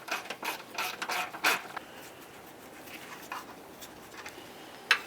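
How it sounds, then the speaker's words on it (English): A stubby ratchet with a 15 mm socket clicks in short bursts as it backs off a nut on the starter of a 2009–2020 Dodge Journey, close and fairly quiet, with a sharp metallic tick near the end. "I'll use a 15 millimeter with my stubby ratchet."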